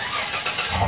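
Mitsubishi Pajero Sport V6 3000cc petrol engine with a stock exhaust revving up, a steady broadband engine roar that swells briefly toward the end, heard close.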